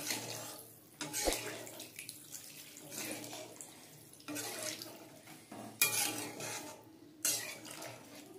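Water poured into a pan of fish egg fritter curry with potatoes, a steady running splash lasting several seconds with a few clinks of metal and brief louder bursts, close and moderately loud.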